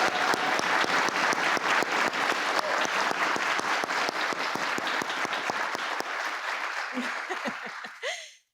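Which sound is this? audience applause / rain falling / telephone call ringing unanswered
audience applause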